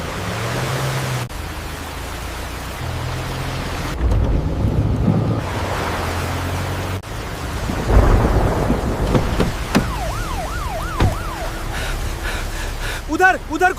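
Heavy rain pours down near a village road during a thunderstorm, a dense hiss with low rumbling thunder swelling in bursts, layered under speech, music and dramatic sound effects.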